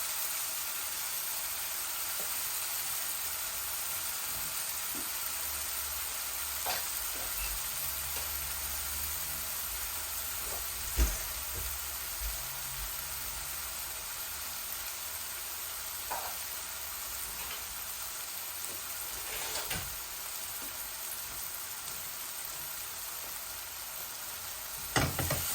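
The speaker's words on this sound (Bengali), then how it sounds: "আমার মরিচ মশলাগুলা ভাজা হয়ে গেছে।" Chili and spice paste fries in oil in a pan with a steady, close sizzle and hiss throughout, broken by a few soft clinks and stirring scrapes.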